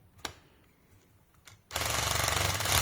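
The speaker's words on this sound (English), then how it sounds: "That's the clutch spinning basically" A DeWalt DCD778 cordless drill's clutch slipping and ratcheting, a loud steady buzzing rattle that starts abruptly after a couple of faint taps and keeps going to the end.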